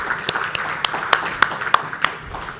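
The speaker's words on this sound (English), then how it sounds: "A big round of applause for Dr. Satya Brahma." Scattered, fairly faint applause from an audience at an annual pharma leaders summit, with a loose run of sharp individual claps rather than a dense ovation.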